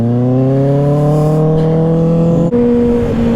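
2024 ZX-6R motorcycle with an M4 exhaust on the freeway: a loud, close, continuous engine drone that climbs steadily in pitch, dips briefly at a gear change, then carries on at a higher tone.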